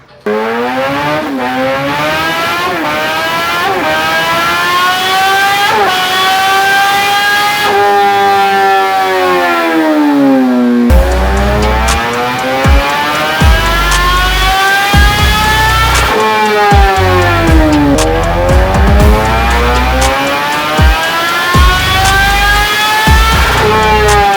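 A 2011 Suzuki GSX-R1000 motorcycle running on E85 fuel revs hard and loud, its engine note sweeping up and down repeatedly in long rising and falling pulls through the power band, with no talking.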